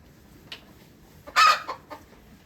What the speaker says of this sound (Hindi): ये देसी मुर्गा है, तो ये मुर्गी के पीछे पड़ गया।